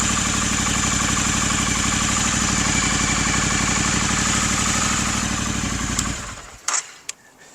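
A motorcycle with a newly fitted decat pipe idles loudly and close, a steady throbbing engine note that holds for about six seconds before cutting off, followed by a few brief clicks and clunks.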